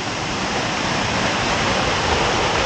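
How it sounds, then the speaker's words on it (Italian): Tuorno waterfall near Calabritto in southern Italy, a four-tiered cascade, roars as a steady, loud, dense rush of falling water with no voices over it. "guardate il salto che fa questa cascata"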